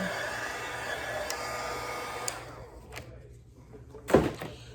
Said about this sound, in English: I'm gonna use my blow dryer just to make sure it's all the way dry here